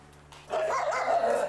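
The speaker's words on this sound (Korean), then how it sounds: "하지만 곰이를 보자마자 맹렬히 짖는 복실이." A Pungsan dog barks and snarls fiercely at an English Sheepdog, an aggressive growling outburst that starts abruptly after a quiet moment and carries on loud and close.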